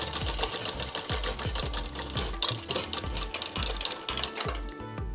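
A sewing machine runs continuously while double-stitching a frock sleeve, its needle thumping in a rapid, regular rhythm with a bright mechanical clatter, close and loud with no talk.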